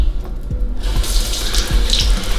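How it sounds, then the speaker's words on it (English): Water from a kitchen tap runs loudly and up close while seeds are rinsed out of peppers, a continuous splashing stream with a few soft knocks beneath it. "you just want to make sure that you rinse out the seed"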